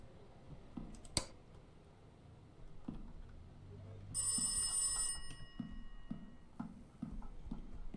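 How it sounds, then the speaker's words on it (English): A telephone rings in the horror video game Rise of Insanity, a brief electronic ring burst near the middle set among scattered clicks and ticks in a quiet room. "The phone is ringing."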